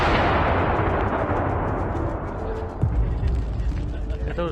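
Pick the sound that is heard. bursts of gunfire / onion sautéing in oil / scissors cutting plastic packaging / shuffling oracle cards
bursts of gunfire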